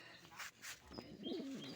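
Soft cooing from two blue bar pigeons with low, rolling murmurs toward the end, close by, after a couple of brief noisy rustles.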